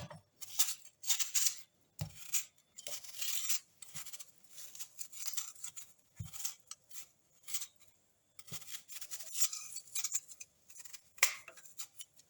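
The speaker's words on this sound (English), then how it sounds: "I'm peeling my apple." An apple being peeled by hand for fruit juice gives bursts of soft scraping and slicing strokes, close and quiet, separated by brief pauses, with no talking.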